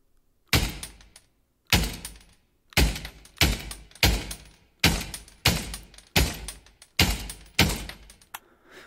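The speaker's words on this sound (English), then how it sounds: "let's take a couple shots with this weapon here" Eight heavy gunshots fired one at a time from a weapon at a target about 60 meters away in the VR shooter Pavlov, loud and close, spaced roughly a second apart, each with a short decaying tail.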